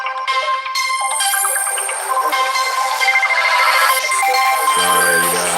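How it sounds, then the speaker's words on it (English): A phone rings with an incoming call, a loud, continuous ringtone of bright layered electronic tones that runs throughout, ending in a lower repeated chime. "I don't know why I'm getting a phone call."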